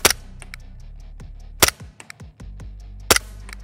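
Shots from an Umarex Glock 17 Gen 5 air pistol fired at a target: three sharp, loud cracks spaced about 1.5 seconds apart, each followed by brief mechanical clatter, over a steady low hum.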